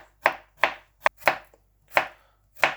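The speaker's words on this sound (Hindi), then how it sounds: "मिर्चों के साथ साथ हम लहसुन भी काट लेंगे बारीक बारीक" Garlic is finely chopped with a knife on a board while chicken karahi is being prepared, six crisp, evenly spaced chops ringing out close and alone at a steady pace.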